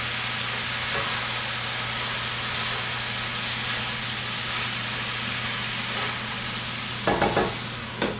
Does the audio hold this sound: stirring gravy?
yes